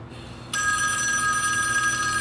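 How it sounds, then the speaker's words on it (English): A telephone rings as a call goes through to the police department, a bright electronic bell tone that starts faintly, then jumps to a loud, steady ring continuing to the end, with no talking. "Ringing the police department."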